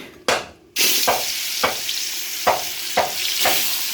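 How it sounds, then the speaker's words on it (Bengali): Chillies fry in a pan with a loud, steady sizzle, broken by several evenly spaced stirring scrapes and hissing surges. "এখান দিয়ে মরিচ ভাজি করবো"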